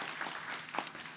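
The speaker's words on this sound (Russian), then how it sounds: "Еще раз аплодисменты" Applause from an audience at a family-themed event, a steady wash of clapping heard at moderate distance through the whole moment, with no speech over it.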